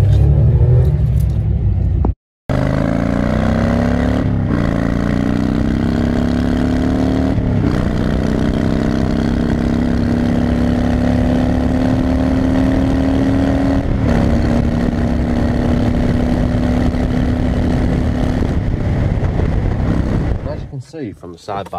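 A remapped Citroen C1 with a K&N air filter accelerates hard under load, recorded from inside the car: a loud, throaty engine note rises steadily over about twenty seconds with brief dips at gear changes, then fades at the end.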